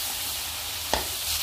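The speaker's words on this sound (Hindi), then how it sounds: "हितून कॉलीफ्लावर घाता आनी मातशें सॉटे कोता कॉलीफ्लावर बरो मिक्स करुया" Cauliflower sautéing in a pan for a Goan vegetable caldine gives a steady, close sizzle, with one brief scrape of stirring partway through.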